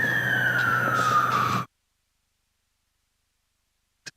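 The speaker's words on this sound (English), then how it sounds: "Some emergency service vehicles close to the ground. You can probably hear the sirens." Emergency service vehicle sirens sound close to a cricket ground during a county championship match, a loud steady wailing tone sliding downward before cutting off abruptly, followed by silence and a couple of faint clicks.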